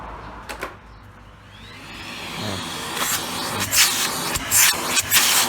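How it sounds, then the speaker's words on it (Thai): A vacuum cleaner draws up a fabric flower-shaped hat, starting as a soft hiss that grows into a louder, rough rushing noise with uneven surges in the second half. "อ่าเครื่องดูดฝุ่นนะครับ"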